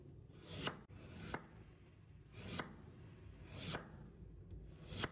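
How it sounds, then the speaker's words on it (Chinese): A kitchen knife cuts radish into strips about one centimetre wide on a board, giving five or six crisp, evenly spaced chops at close range over quiet room tone, with no talk. "然后再切成1厘米左右的长条"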